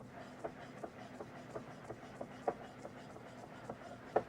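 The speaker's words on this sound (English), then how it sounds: "Slices of squash are diced." A chef's knife dices slices of squash into strips on a cutting board, giving a quiet series of regular soft chops with faint kitchen ambience.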